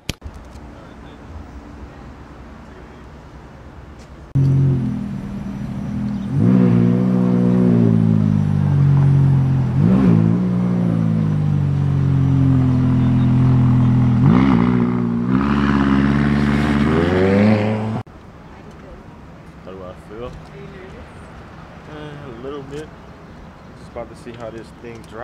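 A McLaren sports car engine revs hard and pulls away, a loud rising and falling growl of several seconds through gear changes, with quieter idle and movement before and after.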